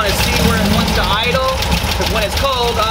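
A cold Volkswagen air-cooled engine with dual carburetors runs at a steady, loud idle with continuous low rumble, while a person talks over it throughout.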